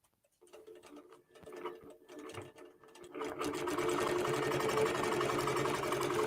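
A QBOT computerized quilting machine starts stitching a quilt boundary: sparse soft clicks and taps first, then a steady, fast mechanical rattle of stitching that continues loud and close to the end.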